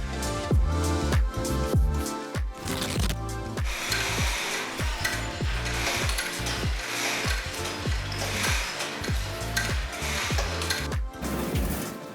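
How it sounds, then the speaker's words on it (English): A handheld auto-threading screw tool makes a loud, steady series of rapid mechanical clicks and ratcheting thumps, about one per half second over a whirring motor. No one speaks. "Handheld screw tool works like a robot. Auto-threaded, zero slip."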